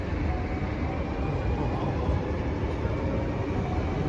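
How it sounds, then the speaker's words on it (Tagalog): A long train rolls past on the line, giving a steady, dense rumble and rattle that holds unchanged throughout at moderate distance, heard from a road trip between the Netherlands and Paris. "Tignan nyo, gano'ng kahaba ang train dito."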